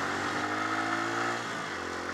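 A motorcycle engine running steadily and loud at close range while the bike rides over a small jump, a continuous mid-pitched drone with slight surges, no talking.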